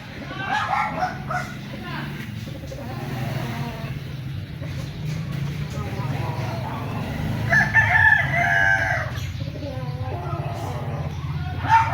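Seven-month-old White Kelso gamecocks in a backyard breeding setting crow and cluck amid steady outdoor background noise, with a dog barking and someone talking at times.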